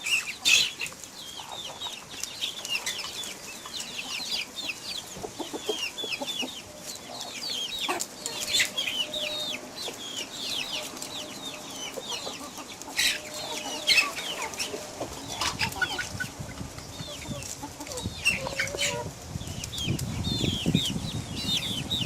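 Chickens and chicks in a yard keep up a steady scatter of clucks and high peeps, close and moderately loud, with occasional wing flaps and a burst of low rustling toward the end; no talk.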